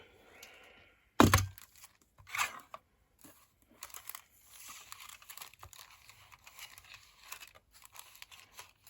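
Paper bits are trimmed off while making a traveler's notebook: one sharp snap, then scattered soft crinkles, cuts and handling noises close by, with no talking.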